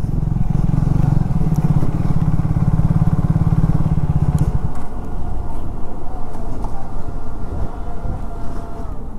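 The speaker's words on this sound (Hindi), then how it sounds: "टर्नल में बढ़िया साउंड आता है, तो यार रेव मार के मजा आता है।" A Triumph Speed 400 motorcycle revs hard inside a tunnel, its loud, throbbing exhaust echoing for about four seconds before dropping back to a steadier idle with road noise.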